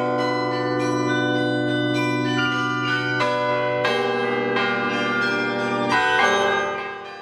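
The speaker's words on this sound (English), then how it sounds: "The Carillon is a source of music for the whole campus" Carillon bells ring out from the century-old Campanile bell tower on a university campus, a sustained, resonant chime melody with overlapping struck tones and long decays, loud and steady throughout.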